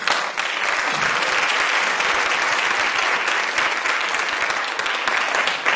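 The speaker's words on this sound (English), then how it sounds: "thank you so much for that applause" A theater audience on opening night at a tenth-anniversary event gives a loud, continuous round of applause, dense and even for several seconds with no voices over it.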